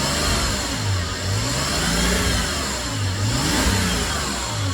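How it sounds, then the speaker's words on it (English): A Porsche Boxster engine, on a car bought from a salvage auction, revs up and settles back in steady repeated swells, close and loud with a continuous mechanical whir throughout. "Let me see if I rev this up."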